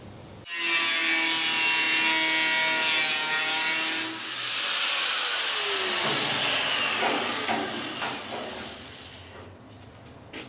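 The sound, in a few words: angle grinder cutting out a section of the Triumph GT6 roof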